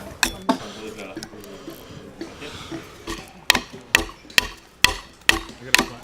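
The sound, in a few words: carpenter's adze chopping wood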